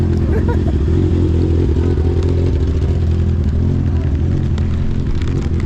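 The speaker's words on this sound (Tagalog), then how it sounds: "Ang ingay ng motor mo?" A loud Honda motorcycle engine runs steadily throughout, with a deep rumbling drone and some rattling clatter close by.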